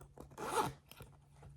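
A zipper on a damp fabric bag in a sewing project is pulled open or shut in one quick, close rasping stroke that lasts about half a second, with quiet handling noise before and after.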